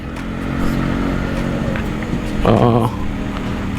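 A Yamaha RX motorcycle ridden slowly along a woodland trail, its engine droning steadily close by with a brief louder rev midway, under someone talking.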